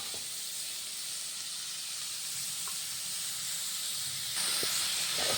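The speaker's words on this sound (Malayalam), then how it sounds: "ആദ്യം ഒന്ന് ഇഞ്ചി പതുക്കണം." Ginger sautéing in a pan hisses in a steady, even sizzle throughout, swelling slightly louder near the end, with no talking over it.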